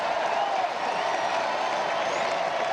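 Baseball stadium crowd during a Texas game, a steady, broad roar of cheering and applause sustained at a distance with no clear breaks.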